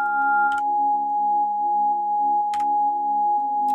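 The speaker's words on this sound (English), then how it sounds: "the sound at the moment is super weird because it's just sine wave" A synthesizer holds a plain sine wave pad, pure steady tones stacked in a low chord, one higher note dropping out early, with faint clicks in between.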